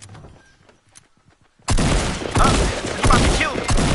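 Dense gunfire bursts out in a Fortnite Battle Royale match, starting abruptly after a few faint early shots and continuing as a loud, sustained fusillade to the end.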